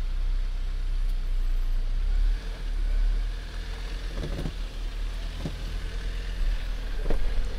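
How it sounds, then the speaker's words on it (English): A Jeep Wrangler Rubicon on Falken Wildpeak AT4W tires crawls off-road in low gear in Moab, its engine a steady low rumble close by, with a few brief knocks and clunks from the rocky trail. "so I got my crawling gear engaged."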